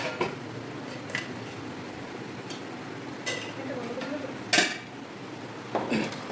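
Metal serving utensils scrape and clink against a plate as rice is served, with scattered sharp knocks over a quiet room hum and a voice speaking intermittently.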